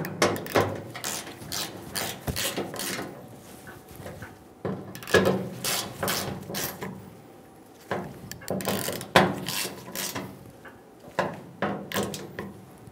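Bolts are tightened on the tailgate of a 1988-1999 GMC K1500 pickup with repeated close ratcheting clicks and metallic clatter, coming in uneven bursts with brief pauses.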